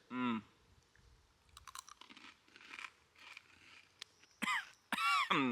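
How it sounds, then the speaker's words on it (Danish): Crunchy chewing of a big bite of blue-flavoured food at a taste-test challenge, loud close bites and mouth noises in bursts, with a few short throat sounds and no talk. "jeg tror bare, jeg tager et stort bid."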